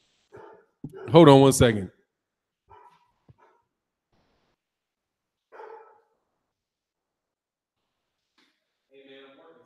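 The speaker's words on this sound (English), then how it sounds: "She's barking at you." A large dog barks a few times, short faint yaps scattered in near silence after someone speaks briefly.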